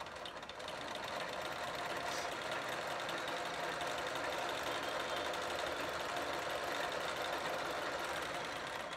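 A sewing machine stitches a fall onto fabric with a continuous, fast mechanical whirr and hum that holds a steady level for the whole stretch, close and uninterrupted.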